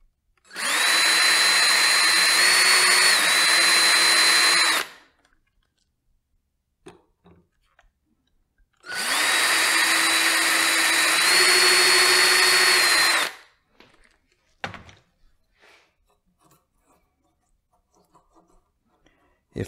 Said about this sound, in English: The first step is to drill out the two holes with the supplied drill bit.